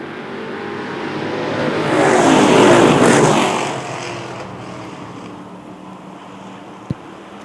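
Short track race cars roar past at a green flag restart, their engines swelling from a distant rumble to a loud whooshing pass and then fading away, with a sharp click near the end.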